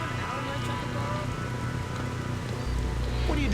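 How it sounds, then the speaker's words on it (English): Steady heavy rain patters and hisses over a low rumble in Splinter Cell: Pandora Tomorrow, a dense continuous downpour that swells slightly louder near the end. "What are you doing out in the rain?"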